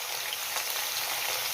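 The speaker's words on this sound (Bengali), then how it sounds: "তো ফুলকপিগুলো আমরা হালকা লাল লাল করে ভেজে নিই" Cauliflower pieces frying in a pan for a cauliflower roast, giving a continuous close hiss and sizzle of hot oil with no pauses.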